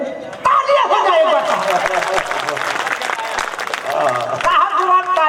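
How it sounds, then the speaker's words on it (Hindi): Crowd applause at an outdoor Hindi poetry gathering in Pandhurna, a loud burst of clapping that swells after a sung line, with voices and singing over it. "तालियां हो जाए"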